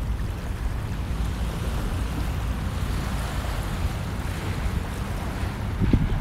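Waves wash steadily onto the crushed dolomite shore of Manila Bay, a continuous broadband surf rush with wind noise and no pauses, ending in a brief louder surge.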